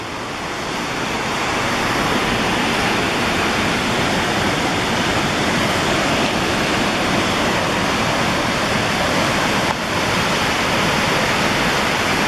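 A waterfall near Lake Placid in winter roars steadily alongside a fast-flowing stream, a loud continuous rush close by with no voices.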